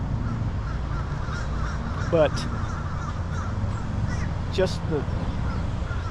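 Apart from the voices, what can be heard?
crows cawing in Riverfront Park, Little Rock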